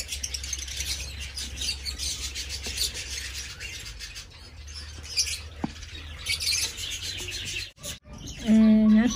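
Fischer's lovebird chicks chirp in an opened nest box, with soft, busy high-pitched cheeping that keeps going over a low steady hum before a brief louder tonal burst at the end.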